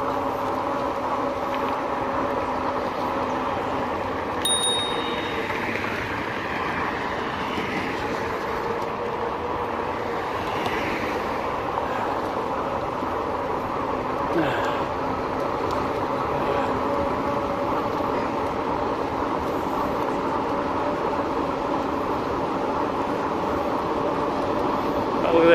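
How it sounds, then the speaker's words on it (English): A train passes by a busy road during a ride on a 2018 RadRover electric fat bike, its steady low rumble mixing with traffic and wind noise at constant loudness throughout. "Oh, look at that, the train is passing through here."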